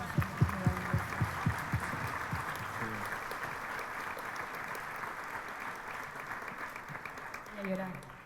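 Audience applause for guests of a film festival panel, opening with loud clapping that gradually thins and settles into a steady, softer crowd wash, with some voices mixed in.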